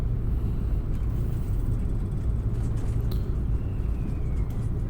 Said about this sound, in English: Oh, those brakes sound awesome.